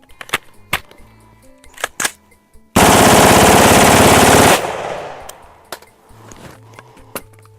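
An AR-15 rifle fires a sustained rapid burst of nearly two seconds, loud and dense, with sharp scattered clicks and handling noises before and after.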